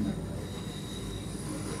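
A Pune metro train running, with a steady rolling rumble and faint rail squeal, continuous and close throughout.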